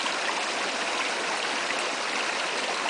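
Creek water rushes steadily over rocks where spawning trout gather, a constant close, full hiss of flowing stream with no talk, unchanging from start to finish.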